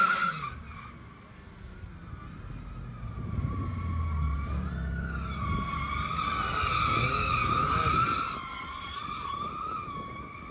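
Tires on an Audi RS Q8 squeal in a long, high, wavering skid on an autocross track, with the big SUV's engine rumbling underneath as it is thrashed through the turns.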